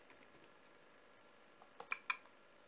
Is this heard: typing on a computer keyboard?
yes